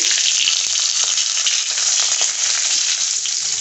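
Garlic fries in a pan with a loud, bright, continuous sizzle, close up, while a spoon stirs it with a few faint scrapes beneath the hiss; no voices.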